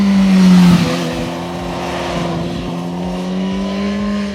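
Suzuki GSX-S 1000 motorcycle with its Japanese four-cylinder engine pulling hard above 7000 rpm, a loud steady high-revving drone with wind rush throughout, recorded on board.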